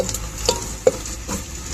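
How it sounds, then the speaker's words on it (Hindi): Tadka spices being tempered in a pan while ridge gourd curry is cooked, giving a brief stretch of soft sizzling and frying with a couple of sharper clinks and stirring sounds, no talking. "हमने सारा कुछ काट के तड़का चालू कर दिया लगाना"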